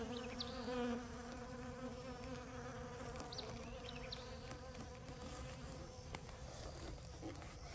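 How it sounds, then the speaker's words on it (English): Honeybees defending their hive swarm close by, a loud steady buzzing drone of many wings that holds throughout, with individual bees flying past now and then. "And then those other bees, they look like they're getting, they're defending their hive"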